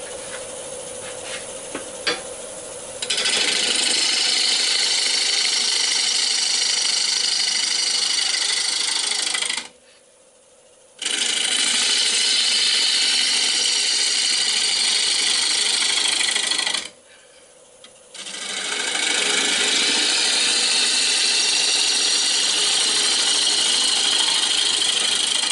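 Wood lathe turning a warped green wood bowl as a gouge trues it up, a continuous whirring hiss of cutting that stops abruptly twice for about a second before resuming, with no voices.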